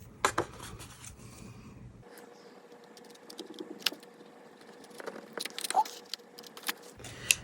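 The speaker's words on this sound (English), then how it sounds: "Now this one I'm just going to trim with my scissors." Scissors trim the edge of a card for a shaped baby-overalls-with-T-shirt card, giving a few sharp, close snips and light paper rustles spread over a quiet room.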